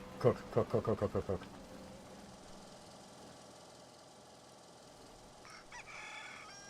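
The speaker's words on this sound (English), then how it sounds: "That's a chicken." A chicken in Fallout 4 lets out a rapid series of about seven loud, evenly spaced clucks, followed by a long quiet stretch and a faint burst of clucking near the end.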